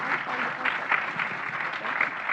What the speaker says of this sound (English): please give them a round of applause for all of the effort that they have put into this